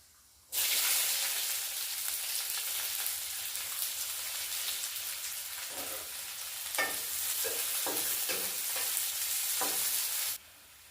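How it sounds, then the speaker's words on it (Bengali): Chopped onion and cumin sizzle in hot white cooking oil, a loud, steady frying hiss that starts abruptly and stops cleanly, broken near the end by several scraping stirs of a spatula; no voices. "পেঁয়াজটা মোটামুটি ভাজা হয়েছে।"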